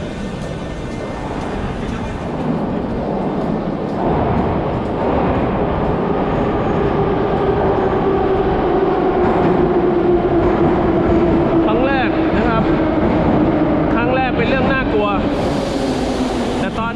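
A metro train runs on its rails with a steady, loud rumble and a rising, then falling mechanical whine, while people talk over it throughout.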